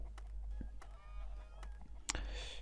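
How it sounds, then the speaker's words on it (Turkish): Poultry in a Roblox Skyblock coop squawk and honk in a few scattered calls, with one louder sharp burst near the end over a steady low background hum. "Tavuklara bayağı ses geliyor."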